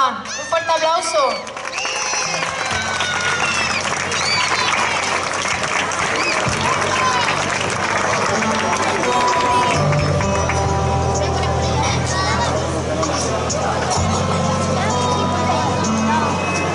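Loud, sustained applause from a festival audience as honor court members are called onstage at the Hoya del Campo fiesta opening, steady clapping with crowd noise and cheering over a low musical hum throughout.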